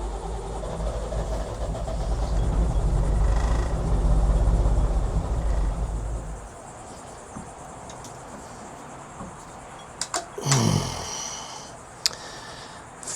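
A Yanmar engine that has run poorly since being serviced gets a little throttle. It makes a loud, steady low rumble for about six seconds, then cuts out. A short descending whine and a few sharp clicks follow.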